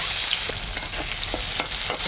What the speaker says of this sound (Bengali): আগে শুকনো মরিচটা ভেজে নিলাম